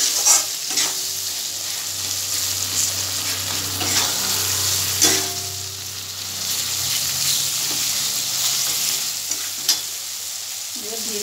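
Spices with salt and chili sauté in a pan for a cabbage curry, a steady close sizzle with repeated scraping stir strokes and occasional clinks of the spoon against the pan.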